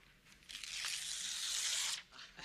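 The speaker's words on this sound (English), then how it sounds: "Rip out the entire page." A single long, loud rip as a page is torn out of a book, building quickly and lasting over a second before stopping, with a little faint rustling of paper around it and no talk.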